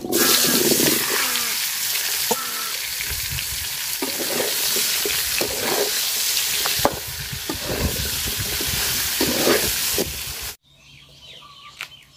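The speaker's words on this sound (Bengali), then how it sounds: "মাছ ভাজার তেলে আমি বাগুন দিয়ে ভাজা নিব।" Eggplant pieces rubbed with turmeric and salt fry in oil left over from frying fish, a loud, continuous close sizzle with stirring scrapes that runs about ten seconds before cutting to quiet.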